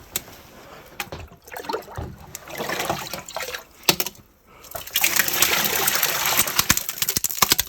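Melted snow water pours into a barrel in a frozen village in Russia's harsh far north, a close, splashing rush of liquid that comes in bursts and then runs steadily and louder near the end.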